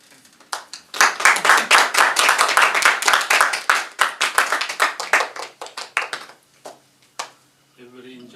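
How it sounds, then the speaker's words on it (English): Audience clapping at a talk by a lama, building quickly into dense applause for several seconds, then thinning into scattered claps and fading out, with a voice briefly at the end. "Please clap for Jacinta and Tokyo, my organizer."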